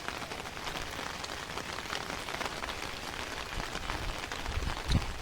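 Light drizzle patters steadily on surfaces outdoors near a millet field, a soft, even hiss of fine raindrops that continues unbroken with no voices.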